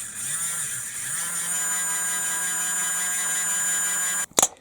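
Small electric motor powered by a 3.7 V battery turns the turntable of a Bruder CAT RC excavator conversion, giving a steady, close, high-pitched whine that runs unbroken and ends with a short clatter.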